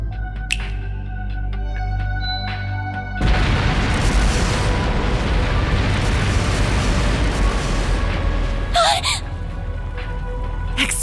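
Explosions set off by scattered explosive artifacts in the video game Trails Through Daybreak, a sudden loud booming roar that bursts in after a quieter stretch and rumbles on continuously with a sharp pop near the end.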